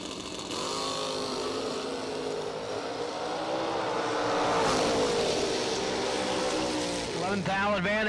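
Two drag race cars, a Chevy Nova and a Chevelle, roar down the strip with loud, sustained engine tones that rise and shift in pitch, while an announcer talks over them throughout.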